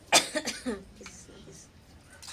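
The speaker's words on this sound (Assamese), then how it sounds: "কাহো হৈ আছে" A person coughs at close range in a home, with a sharp, loud burst followed by a couple of smaller hacks, then quieter talk in the background.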